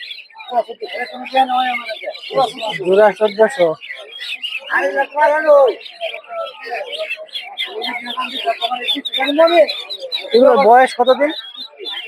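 Quail and other birds at a poultry and duck market chirp and tweet in dense overlapping bursts close by, with people talking over the calls throughout.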